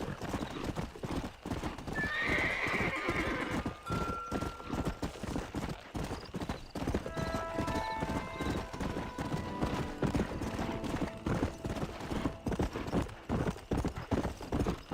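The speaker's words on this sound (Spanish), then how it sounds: "El buen caballo." Horse hooves clip-clop at a steady gallop in the Red Dead Redemption game, with a loud whinny early on and tonal game sounds layered over the continuous hoofbeats.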